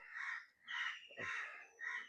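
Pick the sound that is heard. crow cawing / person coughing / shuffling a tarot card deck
crow cawing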